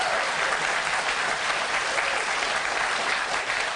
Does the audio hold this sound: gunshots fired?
no